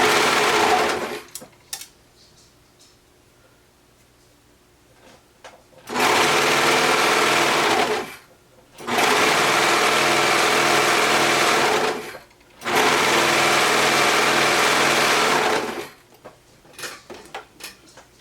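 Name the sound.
serger overlock sewing machine serging a knit neckline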